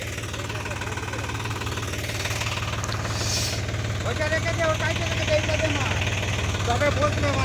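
A Massey Ferguson 254 DynaSmart 4WD tractor stuck in deep mud drones steadily at a low, knocking idle throughout, with a person talking over it.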